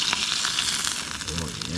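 Butter swirled in a hot pan while cooking outdoors in the backcountry makes a close, steady sizzle and crackle, with a voice murmuring briefly under it.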